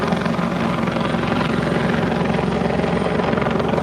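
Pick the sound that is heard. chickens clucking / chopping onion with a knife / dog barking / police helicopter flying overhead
police helicopter flying overhead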